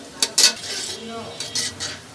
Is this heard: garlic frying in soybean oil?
yes